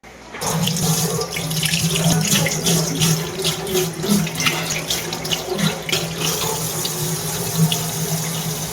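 Tap water runs steadily into a sink, washing acrylic marker off, a continuous close splashing rush with no voices.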